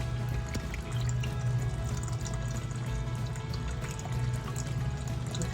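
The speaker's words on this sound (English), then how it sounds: "With the jetter on it right now." A sewer jetter spraying water inside a storm drain in Youngsville, Louisiana produces a steady rushing, gurgling wash of water with a low rumbling hum underneath, fairly quiet and continuous throughout.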